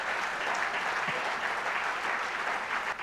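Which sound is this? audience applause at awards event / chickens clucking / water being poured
audience applause at awards event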